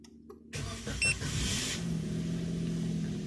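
A car engine is started with the key: a short cranking burst, then the motor catches and settles into a steady, even idle hum that stays close and constant.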